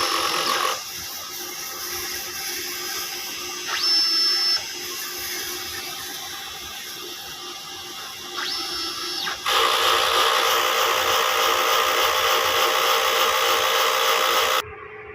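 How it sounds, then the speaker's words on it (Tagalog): A DTF printer runs a print head cleaning cycle: a steady mechanical hum with two rising-and-falling whines from the print head carriage, then a louder pump-like whir that holds until it stops abruptly. "Head clean."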